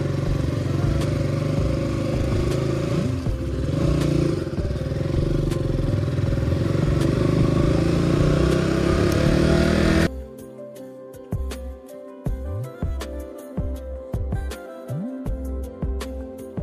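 A motorcycle engine runs steadily and loud up close on a Bengal road trip from Howrah to Purulia, then cuts to quieter intermittent clattering and thumps with the engine note dropping away.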